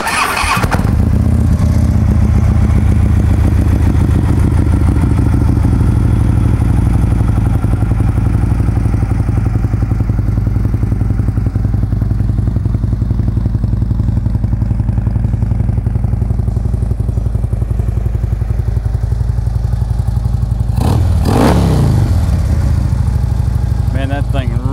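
A Harley-Davidson Screamin' Eagle Ultra Classic CVO motorcycle with Vance and Hines exhaust fires up and idles loudly nearby with a deep, steady, lumpy rumble, including a brief sharper burst near the end.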